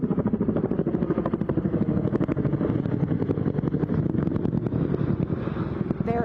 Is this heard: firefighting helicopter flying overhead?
yes